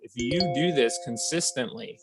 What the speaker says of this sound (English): okay, that's just my phone.